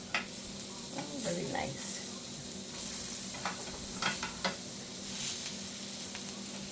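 Little onions frying in a hot pan give a steady sizzle with brief stirring clatter, close and moderately loud, while a voice briefly speaks.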